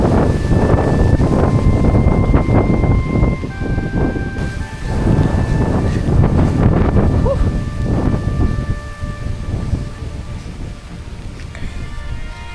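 Strong stormy wind buffeting a microphone at a bike-camping site in Tanay, a loud continuous rushing roar with gusty surges and a few faint tones, easing slightly toward the end.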